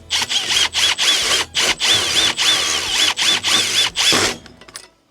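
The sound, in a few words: power drill tightening a bolt with fender washer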